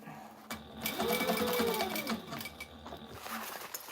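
A sewing machine runs a short burst of stitching along a seam on tactical gear, a quiet, fast mechanical whir lasting a couple of seconds with a faint tonal hum, set against a hushed room.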